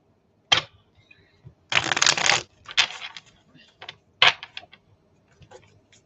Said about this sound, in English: 3 more shuffles and a pull.